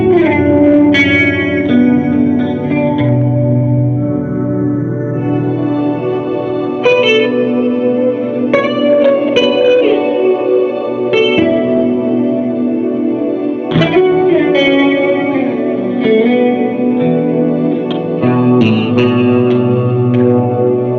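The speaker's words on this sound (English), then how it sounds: "Get kind of like a really vibey low pad here. Stick the reverb on underneath this." A guitar plays a sustained, vibey low pad through a pedalboard, washed in reverb with chorus and echo shimmer, swelling chords ringing steadily and loud for the whole stretch with no voices.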